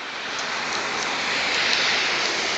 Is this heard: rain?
yes